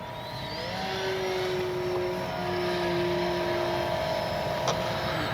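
An FMS Ranger 1220mm RC airplane flies past at a distance, its electric motor giving a thin droning whine that slides gently in pitch as it banks, over soft outdoor background noise, with no talking.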